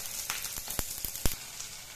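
Small fish fry in a pan, giving a close, steady sizzle broken by several brief crackling bursts over two seconds, with no talk.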